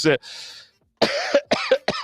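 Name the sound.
cough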